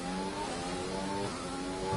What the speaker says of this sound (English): we're having engine failure, guys. I could hear the revs dropping.